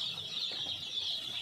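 Newly arrived broiler chicks, cockerels at zero days old, cheep continuously and densely in a brooding coop, a steady high-pitched chorus with no talk over it.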